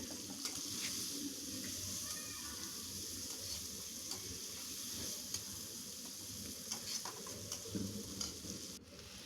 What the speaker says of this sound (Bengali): এই পেঁয়াজটা আমি ভালো করে ভেজে নেব।